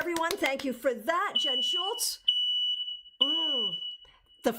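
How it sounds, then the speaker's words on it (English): An apartment fire alarm sounds a piercing, continuous high electronic tone for several seconds while people talk over it, cutting out near the end. "Just to let you know, that was the fire alarm."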